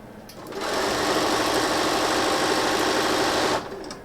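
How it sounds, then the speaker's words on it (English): A sewing machine stitches fabric strips together in one steady, loud, continuous run of about three seconds, starting and stopping abruptly, with no talking. "we will have these sewn together fairly quickly"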